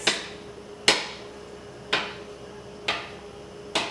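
A knife chopping rolled pretzel dough into bite-size pieces on a board: five sharp, evenly spaced thuds about a second apart, close and clear with nothing else heard.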